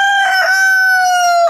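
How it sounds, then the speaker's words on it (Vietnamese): A rooster crows in a single loud, close call lasting over a second, a clear, sustained tone that holds steady and then cuts off abruptly, with no talk around it. "Tiếng gà gáy của các nước:"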